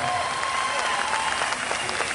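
A concert audience at an outdoor apple festival in General Roca applauds a singer, a steady wash of many hands clapping at moderate level, with faint voices beneath.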